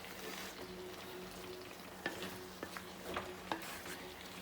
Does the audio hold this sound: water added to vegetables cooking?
yes